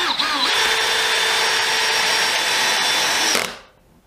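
A power drill drives screws into wood with its clutch slipping, a loud, steady whine lasting several seconds up close before cutting off abruptly.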